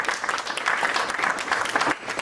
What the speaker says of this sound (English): Round of applause back to Orlando for these guys this year.